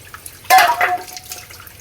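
A brief pour of water into ground cumin, garlic paste and spices in a Bengali kitchen, one short splashing gush lasting about half a second, followed by faint wet stirring sounds.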